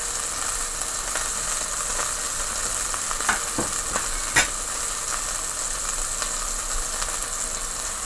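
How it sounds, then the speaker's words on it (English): Chicken tenderloin stir frying in a pan with fresh seasoning, a steady close sizzle and hiss broken by a few sharper crackles and scraping stirs, with no voices. "you could put some nice fresh seasoning and let it stir fry a little"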